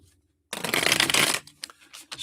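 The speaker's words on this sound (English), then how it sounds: "Shuffle these up." A deck of cards shuffled during a live card-reading session: one dense, papery riffling burst of about a second, close and fairly loud, then a few softer card taps and slides.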